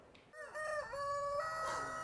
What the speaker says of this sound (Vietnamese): Đây là đàn gà nuôi để bán kịp Tết Kỷ Hợi